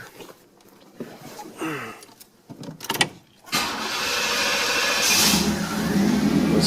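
A car engine cranks briefly and catches, then settles into a steady, fairly loud running idle close by after a few scattered knocks and handling sounds; the car is being prepared for body and paint work.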